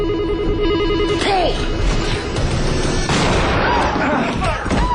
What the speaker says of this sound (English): Pick up the phone. Don't make it ring!